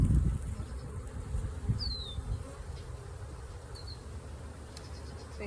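Honey bees buzzing around an open hive during an inspection, a soft continuous hum close by, with a couple of faint high chirps and light handling noises near the start.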